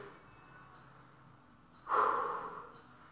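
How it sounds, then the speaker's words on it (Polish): Heavy breathing from a person recovering after a military-style fitness workout: a steady, hushed background of breaths, then a sharp, loud exhale or snort that tails off. "Staramy się wyrównać oddech."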